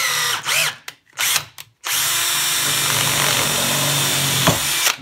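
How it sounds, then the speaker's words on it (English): A power drill bores through the steel of a storm door handle, the motor whining steadily after a few short stop-start bursts, close and loud with no talking. "and then I back off and just let the drill do the work."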